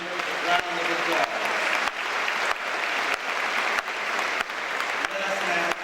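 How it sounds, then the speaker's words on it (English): Dense, steady applause from an audience at a mosque event, filling the whole stretch at an even level with slight dips, with faint voices mixed in underneath. "Let's give them a well-deserved round of applause."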